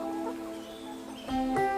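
Chickens clucking inside a farm coop on a household smallholding, short close clucks over a steady tonal background hum, growing louder toward the end.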